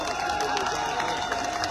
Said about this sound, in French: Je vous demande d'applaudir très fort pour le MRC.